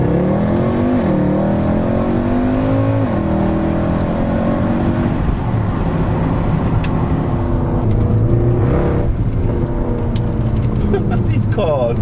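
Mercedes C63 AMG under hard acceleration, its engine roaring through several rising gear pulls with shifts between, heard from inside the cabin with the back windows open, loud and continuous.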